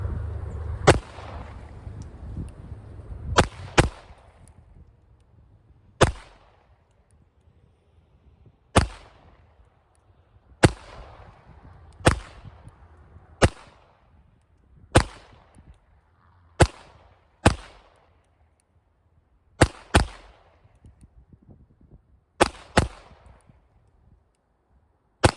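Handgun shots from a 9mm Makarov and a 9mm Luger firing CCI Blazer Aluminum ammunition, about a dozen sharp, loud cracks spaced a few seconds apart, each with a short ringing tail, and no voices.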